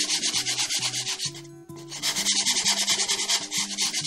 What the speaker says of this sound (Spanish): lo que haremos será lijarla para que queden los cantos más uniformes. Utilizaremos una lija.